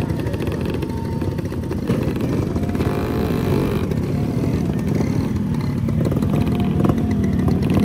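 A Vespa scooter's engine drones steadily and loudly on a mountain road between Muaro Aie and Alahan Panjang, with a continuous low rumble and slight swells in pitch throughout, without talk.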